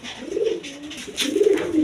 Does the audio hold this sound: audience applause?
no